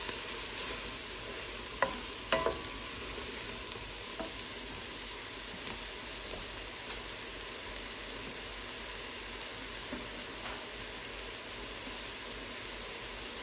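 A lobster bisque base of vegetables cooks down in a pot with a steady, soft sizzle and hiss, broken by a few faint clinks and stirs of a utensil.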